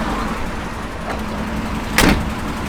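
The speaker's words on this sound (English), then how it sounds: "Doors open and close nice." A 1955 Chevrolet Bel Air door shuts with a single solid thunk near the end, after a faint click, against a low steady engine hum.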